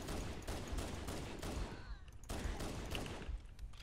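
Rapid gunfire in the video game Halo: Combat Evolved on Legendary difficulty: dense, overlapping bursts of shots throughout with a brief dip midway.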